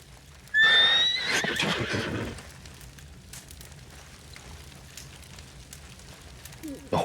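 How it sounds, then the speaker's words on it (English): A horse in the video game Red Dead Redemption 2 whinnies loudly up close, a shrill rising neigh lasting over a second, followed by quieter ambient rustle and a faint thump at the end. "The horse."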